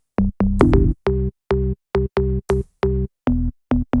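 Short, punchy organ-bass notes from an M1 sample pitched up two octaves play a staccato pattern of about a dozen evenly spaced hits, clear and upfront with no talking.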